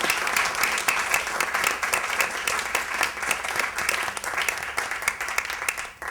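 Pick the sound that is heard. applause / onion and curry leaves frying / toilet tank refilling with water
applause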